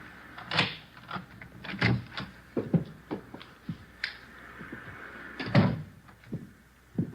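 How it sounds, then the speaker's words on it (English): Front door unlocked with a key and opened in a 1950 radio drama, a series of close metallic clicks, rattles and knocks as the lock turns, then the door swings, no talking. "There's the front door key. See if you can work it."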